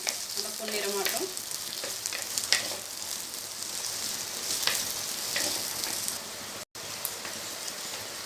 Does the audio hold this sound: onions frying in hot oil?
yes